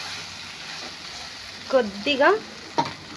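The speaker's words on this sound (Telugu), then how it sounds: "కొద్దిగా ఫ్రై చేద్దాం ఆయిల్లో" Taro root pieces for a Telangana-style tamarind stew frying in oil with a soft, steady sizzle, as someone briefly speaks over it and a few utensil clinks sound near the end.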